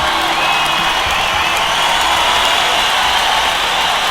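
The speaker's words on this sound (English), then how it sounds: "Applause" A dense, continuous roar of crowd cheering and whooping, blended with a broad hiss, stays loud and steady throughout with no pauses.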